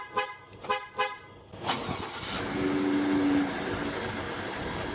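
A Ford F-150 pickup's remote start confirms with several short horn chirps in a quick rhythm at the start, followed by the engine starting and settling into a steady idle.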